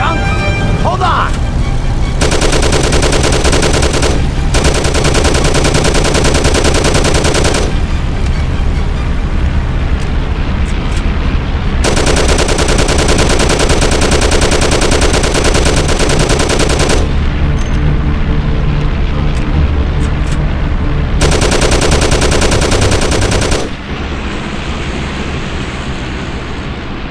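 Bursts of machine gun fire in the Mafia video game, loud and sustained in several long volleys over a roaring car engine, with shouted voices between the bursts.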